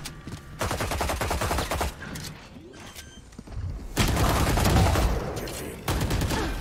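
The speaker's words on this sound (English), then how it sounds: "they can see where you shoot the sheriff bullets" Sheriff pistol fire in a Valorant match comes as loud, sharp shots in rapid bursts. It is mixed with other game gunfire and effects, and a pause in the middle separates two louder stretches.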